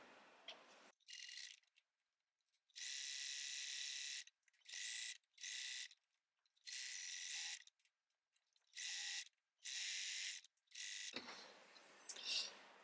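A sewing machine stitches a stretch seam on a jersey bodysuit, whirring in repeated short bursts of stitching separated by quiet pauses, fairly close.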